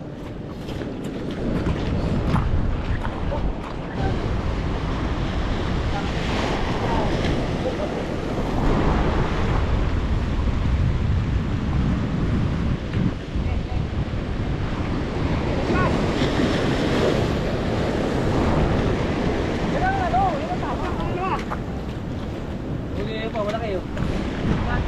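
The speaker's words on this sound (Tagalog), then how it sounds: "Laki ng alon." Big ocean waves surge and crash against a rocky shoreline during yellowtail rock fishing at Avoca, with strong wind buffeting the microphone in a loud, continuous roar; a voice is faintly heard under it.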